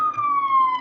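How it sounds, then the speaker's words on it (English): Siren from a passing emergency vehicle on a New York City street, a single sustained wailing tone drifting slowly downward, loud and clear without talk. "Ambulance."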